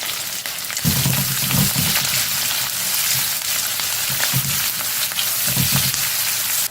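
Onions and curry leaves frying in oil in a pan for idli kurma, with a loud continuous sizzle and occasional low stirring thumps, no voices.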